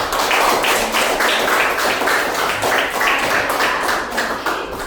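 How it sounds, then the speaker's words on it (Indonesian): Classroom of students clapping for a classmate after a presentation, a roomful of hands beating in a loose repeated rhythm, fairly close and loud, with a few faint voices underneath. "Tepuk tangan dulu untuk Kela."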